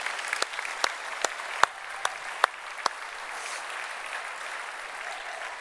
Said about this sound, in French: Geben wir Jesus mal einen richtigen Applaus.